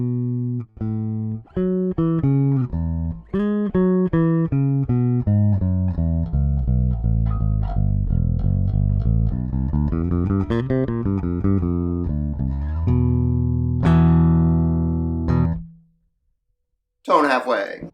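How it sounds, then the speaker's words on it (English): Gibson Reverse Thunderbird bass guitar with both pickups on, played through a Mesa amp: a clear run of plucked single notes and sliding lines, fairly loud and alone, ending with a sustained note and a short pause. "you should be able to get a good idea of what the pure sound of the bass is"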